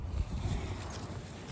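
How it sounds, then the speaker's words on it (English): Wind gusts rumbling against the microphone at a horse barn, a continuous low buffeting roar with a faint hiss above it. "it's really windy here today"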